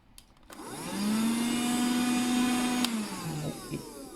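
A vacuum cleaner starts up and sucks dust out of an Asus ROG Zephyrus laptop, a loud, steady whirring drone that holds for a few seconds and then shifts pitch as the nozzle moves.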